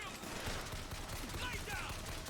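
Rapid automatic gunfire from the shooter game BioShock Infinite crackles in a dense, continuous volley with shouted combat voices mixed underneath.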